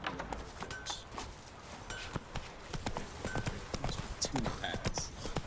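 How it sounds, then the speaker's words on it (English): Horse hooves clip-clop in The Witcher video game, a steady close rhythm of hoofbeats that runs throughout alongside faint game sounds. "Whoa there, Roach"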